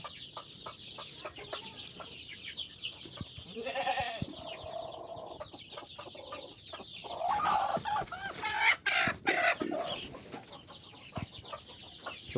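Desi chickens on a poultry farm cluck in scattered, uneven bursts, growing busier and louder toward the middle, with no talking.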